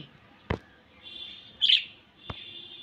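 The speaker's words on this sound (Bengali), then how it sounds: "কোথায় পাখি ডাকে, কোথায় ডাকে পাখি?" A bird gives a few sharp, high chirps, spaced apart and fairly close, against a quiet background with a faint steady whistle-like tone.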